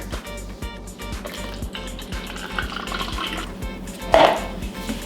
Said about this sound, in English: so I'm going to mix 2 cups of water